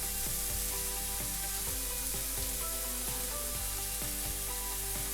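Garlic goes into a pan of softening onions frying for spaghetti bolognese, raising a steady, close sizzle that holds throughout under a soft music bed, with no voices.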